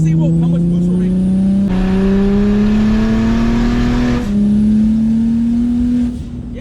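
A turbocharged BMW 335is accelerates hard on low boost, its engine note climbing steadily through the gears in loud, sustained pulls with brief shift breaks, heard from inside the car.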